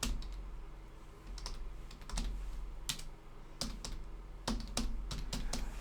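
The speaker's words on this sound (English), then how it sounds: "right here, I can actually type" Typing on a computer keyboard while entering text into a software dialog box, with irregular sharp key clicks in quick bursts over a steady low hum, no voices.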